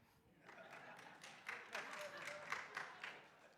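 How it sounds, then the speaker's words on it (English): Church audience clapping quietly in a soft, scattered patter of rhythmic claps that builds slightly, heard faint and somewhat distant. "I did not expect clapping for King James"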